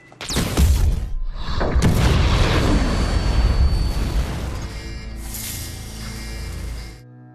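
A gas explosion in a film erupts with a sharp blast, then a long, loud rumbling roar with crackling debris that fades near the end, preceded by a brief burst and short pause.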